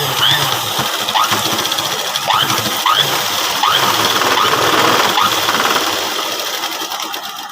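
A sewing machine stitching a blouse hums and rattles in quick bursts, the motor revving up and easing off in a loud, close run that tapers at the end.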